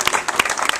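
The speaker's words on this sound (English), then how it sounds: "Give her a big round of applause." An audience at a 2014 tribute event applauds an honoree, a brief burst of dense, steady clapping from a crowd.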